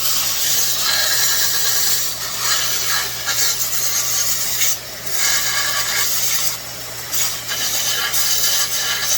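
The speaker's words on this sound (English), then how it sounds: "we're going to hit it on the sander a little bit and clean it up" Muffler piece from a Stihl MS 462 chainsaw being ground clean on a sander, a steady harsh rasping with brief dips as the part is lifted and pressed back, loud and close, with no talk.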